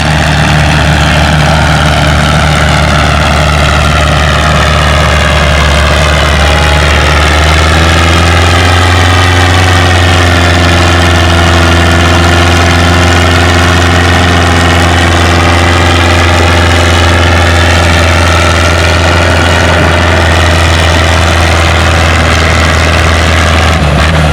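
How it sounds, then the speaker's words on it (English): A Massey 65 tractor roars at full power throughout a tractor pull, loud and continuous, its engine pitch rising and holding steady as it drags the sled down the track. "we got Jeff Kinch on his Massey 65"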